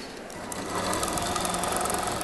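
Sewing machine stitching around the edge of a quilt piece made from metal fabric, a steady rapid mechanical whirr and needle clatter running continuously and close throughout.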